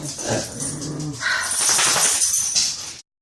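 Ralph, a young puppy lying on his bed at home, whimpers and whines in a continuous close, fairly loud stretch that ends abruptly.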